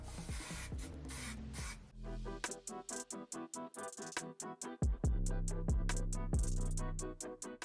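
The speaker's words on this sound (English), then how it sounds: "Now we need our handy dandy Sebastian spray." Short bursts of Sebastian hairspray hissing close by on a wig, then a run of quick rhythmic spray pulses, with music playing underneath.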